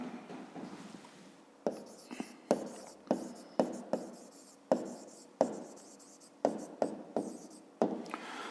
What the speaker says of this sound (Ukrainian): Пишемо тоді друга дія.